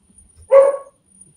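A single short dog bark rings out clearly during an online meeting, loud and close, with quiet background before and after.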